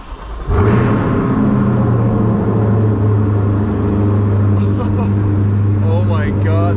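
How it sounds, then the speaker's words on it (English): A rebuilt 2020 Corvette C8 Z51 V8 engine cranks and fires up for its first start with a sudden burst, then settles into a loud, deep, rumbling idle up close, with a voice briefly heard near the end. "let's fire it up and see what it sounds like."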